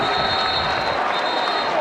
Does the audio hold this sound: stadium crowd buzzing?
yes